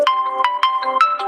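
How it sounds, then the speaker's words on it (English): An electronic alarm ringtone goes off on its own, repeating short bright beeping tones in a quick, even rhythm. "If you can hear the alarms going off in the background music."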